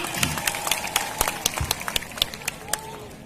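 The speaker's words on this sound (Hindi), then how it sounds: "जोरदार तालियां।" Audience clapping at a World Adivasi Day gathering, a modest crowd's rhythmic claps in steady beats with faint voices murmuring underneath, moderately near.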